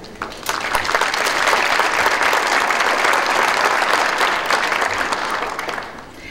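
Sustained audience applause fills a police department badge ceremony hall, a dense wash of many hands clapping at steady volume before tapering slightly at the end.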